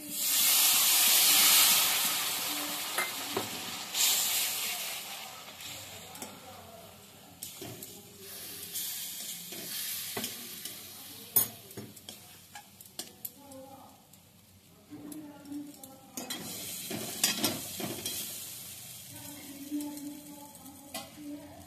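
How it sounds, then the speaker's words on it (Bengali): Onion water poured onto spices frying in a pan hits with a loud burst of hiss and sizzle, then settles into quieter crackling broken by scattered clinks and stirring scrapes for the rest of the stretch. "পেঁয়াজ থেকে যে জলটা আমি বের করে রেখেছি সেই জলটা দিয়ে দিচ্ছি।"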